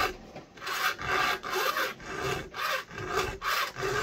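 A hand file rasps across a chainsaw chain in steady, repeated strokes, each a loud, close scraping pass separated by brief pauses, with no talking.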